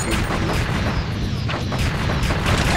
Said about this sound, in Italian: Raptor il lanciamissile bene questa era quello che ci voleva ora posso fare un devasto senza precedenti